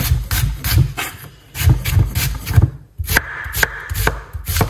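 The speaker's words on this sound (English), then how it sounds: "So when I cut a white onion," A knife chops a white onion on a cutting board in quick, close, loud strokes. The thuds come in bursts with one brief pause midway, and no one speaks.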